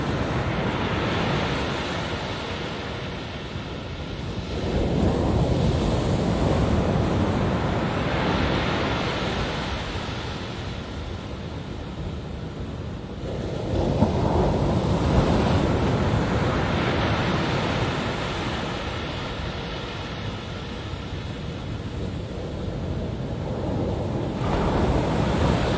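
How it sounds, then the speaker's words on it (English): Ocean waves at Maxwell Beach, continuous surf rushing with several swells breaking and washing in at intervals, mixed with wind noise, no talking. "So enjoy this here, 20 seconds of silence except for the ocean."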